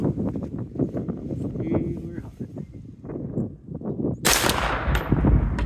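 A rifle firing 5.56 M855 NATO green tip rounds outdoors: someone talks over wind for several seconds before a single sharp, loud report bursts out near the end.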